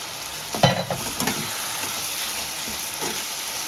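Ginger garlic paste hitting hot oil with fish head for a moong dal, a steady close sizzle with a few clattering spoon stirs near the start and later, no voices.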